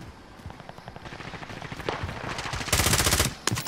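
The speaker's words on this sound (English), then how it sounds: "Someone else is shooting?" Automatic gunfire from a battle royale video game, rapid bursts of shots that build in density and loudness toward the end, with a brief lull before another burst.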